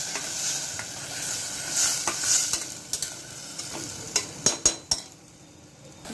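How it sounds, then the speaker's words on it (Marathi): A ginger, garlic, coriander, chilli and clove paste sizzles in a pan for prawn pulao, a steady fry punctuated by a few sharp spoon clinks and stirring scrapes near the end. "आलं, लसूण, कोथिंबीर, मिरची आणि 2 ते 3 लवंगा यांची पेस्ट टाकली आहे। परतून घ्यायचं आहे।"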